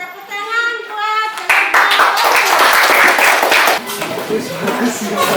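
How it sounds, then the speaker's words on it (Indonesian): A classroom audience claps for a student group after its presentation, a burst of steady applause from many hands that follows a brief moment of talk. "Ya, tepuk tangan buat"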